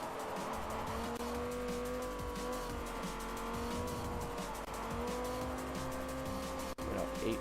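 Car tyres sliding and squealing in Forza Motorsport 4 as the rear end slides around, a sustained tonal engine drone with a steady squeal held continuously under faint talk.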